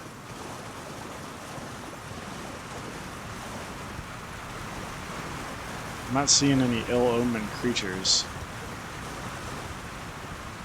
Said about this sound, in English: Seeing a lot of waterfalls.